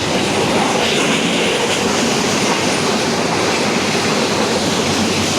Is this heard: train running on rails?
yes